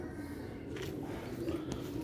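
Soft, low cooing of pigeons for sale, black-faced Sialkoti Professor breed, heard close and steady against a faint background hum.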